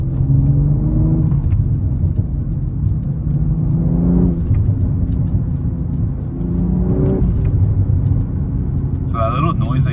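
A 2022 BMW M340i with a custom single exit exhaust revs in rising and falling swells, a loud rumbling roar with a few small pops, while someone talks over it.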